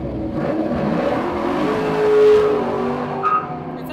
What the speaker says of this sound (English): It sounds like it's in the Corvette family